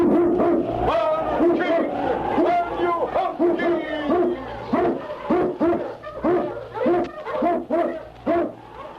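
Eskimo sled dogs of the Yukon howl and yip loudly in a storm, with rising, wavering cries followed by quick, choppy barking bursts that come faster toward the end.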